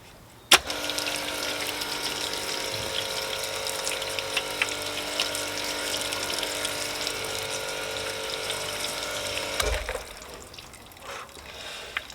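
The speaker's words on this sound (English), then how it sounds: "Let's flood the panel and see how they look." Water poured to flood a waxed BMW M4 paint panel, a steady broadband rush and splash lasting about nine seconds after an abrupt start, with a pump-like hum beneath, then cutting off.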